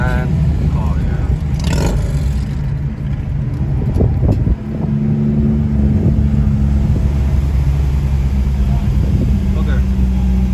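A 2008 Honda Accord V6 coupe and a 2004 Nissan 350z, both with 3.5L V6 engines, race from a 20 mph roll with traction control off. A loud, steady engine roar drones throughout while people talk over it.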